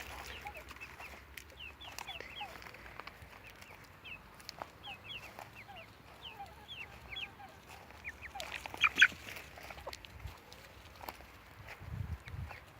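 A pair of Brahma chickens with other poultry clucking and calling in a backyard flock, a busy scatter of short clucks and chatter over low outdoor noise, with a louder squawk midway.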